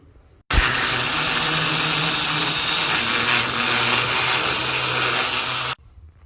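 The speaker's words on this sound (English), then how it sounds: "Took the grinder and cut the nut." A loud, steady angle grinder cuts through a nut on a Peterbilt 379 truck's steering box for about five seconds, starting and stopping abruptly, with a harsh metallic whine and a low motor hum.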